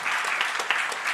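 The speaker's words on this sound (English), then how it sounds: "This book itself deserves a big round of applause from all of us" An audience at a book launch applauds steadily and densely, the clapping close and continuous throughout with no voices over it.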